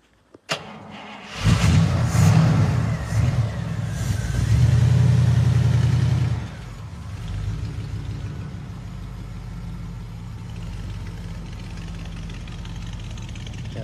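A 1953 Oldsmobile 88 engine cranks and catches, revs loudly for several seconds, then settles into a lower, steady run as the car moves off. The sound is close and clear.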